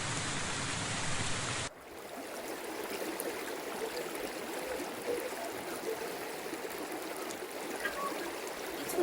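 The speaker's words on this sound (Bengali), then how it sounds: "যাওয়ার রাস্তায় পেয়ে যাবো এরকম ছোট ছোট ঝর্ণা।" A small mountain stream on the Kedarnath trek flows with a steady, soft hiss of running water, faint and continuous, after a brief louder burst at the start.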